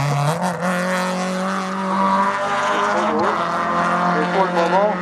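Race car engine at a regional hill climb in Hébécrevon, a loud, sustained harmonic drone rising and falling in pitch as it accelerates nearby, with commentator talk over it.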